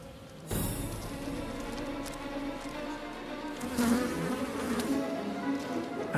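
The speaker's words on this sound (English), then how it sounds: "Bumblebees are able to live in larger families of about 300." Bumblebees buzz inside their nest with a continuous, close, fairly loud droning hum that starts abruptly and swells and wavers a little, with no voices.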